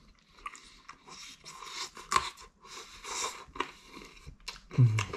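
Close, quiet chewing and biting of a broccoli-topped burger pizza, with soft crunches and wet mouth sounds in irregular bursts, no talking.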